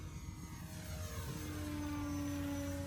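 A 3S-powered RC airplane flies at full throttle, its electric motor and propeller giving a steady, loud whine with rising tones as it passes fairly close.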